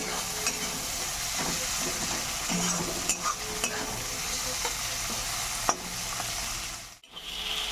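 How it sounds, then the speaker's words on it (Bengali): Tomato frying with onion in a pan, a steady, even sizzle with occasional stirring clicks and scrapes, close and alone. "টমেটোটা একটু ভাজা করে নেব"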